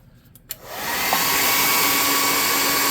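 A hair dryer drying a freshly painted custom tabletop miniature: after a few light clicks it switches on and ramps up within a second into a loud, steady close blowing whine with a faint tonal hum, and no one speaks.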